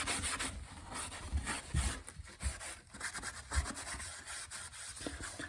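A rag smears charcoal dust into the wood grain of a cigar box guitar, giving a steady close-up rubbing and scraping texture with irregular strokes and occasional soft knocks, and no talking.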